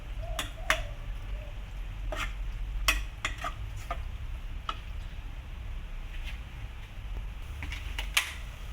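Pork stir-fried in a pan for larb, with a utensil scraping and tapping the pan in a steady run of short, sharp strokes over a low background hum. No talking.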